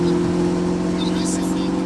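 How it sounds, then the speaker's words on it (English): A car accelerates up a wet on-ramp in Australia on the way to a car meet, with a steady droning engine tone heard from inside the cabin and faint voices in the background. "everyone stops talking when we accelerate"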